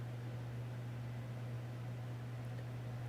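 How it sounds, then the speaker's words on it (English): Steady hum and broadband hiss of an air conditioner running in a home office, a constant drone with no speech over it throughout. "I've got the AC running just to give me some background noise to work with"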